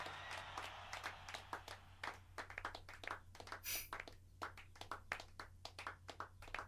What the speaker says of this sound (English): that's a weird clapping just added there at the end